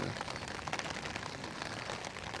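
Steady night rain patters densely on a taut camping tent surface, a continuous close hiss of drops with no voices.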